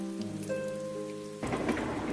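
Heavy, steady rain with strong wind lashes down outside a train window, breaking in suddenly as a dense, hissing wash after a sustained musical tone fades.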